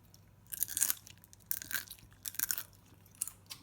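Several sharp, crisp crunches of someone biting into brittle, slightly overburnt toasted carrot bacon at close range, in irregular bursts with short pauses between bites.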